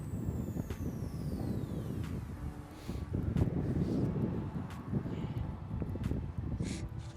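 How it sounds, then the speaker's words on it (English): Wind gusts across an outdoor microphone on a blustery day near a flapping flag, a continuous low rumbling buffet with brief sharper flutters. "Windy one today. Look at that flag just blowing."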